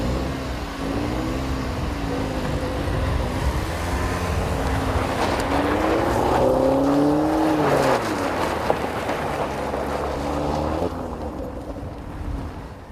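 A 2014 Chevy Sonic Turbo engine pulls hard under acceleration through hills, heard from inside the cabin as a loud, sustained drone that climbs and dips in pitch with gear changes before easing off at the end.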